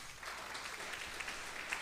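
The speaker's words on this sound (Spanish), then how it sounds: "¿Le quiere dar un fuerte aplauso a Jesús?" Applause from a church congregation during a sermon on Romans 9, a steady wash of many hands clapping, fairly faint and distant, continuing without a break and with no speech over it.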